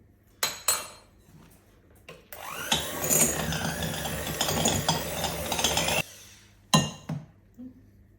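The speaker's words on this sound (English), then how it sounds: "So our first step is we're going to cream our butter." Butter is creamed for cupcakes, a sustained several-second stretch of whirring and scraping in a bowl, bracketed by sharp clinks of utensils and dishes before and after.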